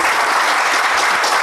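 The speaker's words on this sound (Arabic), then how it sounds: "مرحبا بالجمهور العزيز، صفقوا على روحكم." Loud, dense applause from a studio audience at a talk show, a continuous close wash of clapping throughout with no voices over it.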